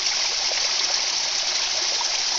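A natural spring-fed stream on a hiking trail near Hiawassee, Georgia trickles and splashes in a steady, even wash of water sound, close by and constant, with no voices.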